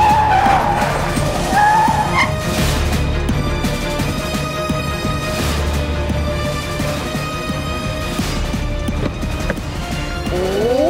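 Cars race past on a road, one overtaking the other, with engines roaring and tires squealing loudly throughout, several sharper skids standing out near the start and end.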